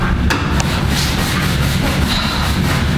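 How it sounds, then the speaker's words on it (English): Continuous rough scrubbing of an office floor, a steady close abrasive rubbing that fills the whole stretch without pause and with no voices. "scrub the floors"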